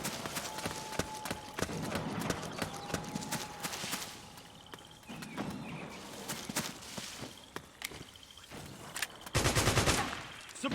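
Gunfire from the Metal Gear Solid 4 video game, with repeated sharp shots and bursts scattered across a busy mix of other game sounds, ending in a louder dense stretch near the close.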